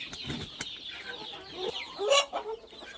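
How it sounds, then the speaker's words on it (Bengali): Laying hens in their shed cluck in a steady, overlapping chorus, with a few sharper, louder squawks standing out near the end and no talk over them. "এই হলো আমাদের ডিমপাড়া মুরগির শেড"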